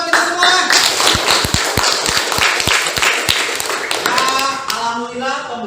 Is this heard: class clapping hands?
yes